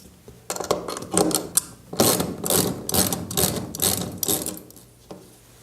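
A bracket is removed from a poultry house ceiling sidewall inlet with a ratcheting tool, giving a run of close, fast mechanical clicking bursts in uneven rhythm, with no talking.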